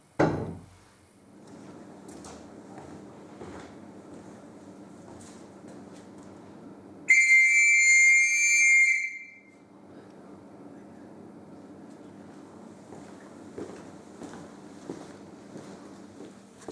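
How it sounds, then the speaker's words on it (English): A shrill police whistle blasts for about two seconds inside an old police station at the check-in desk, piercing and loud against a quiet, echoing room with faint shuffling before and after. "blow the whistle"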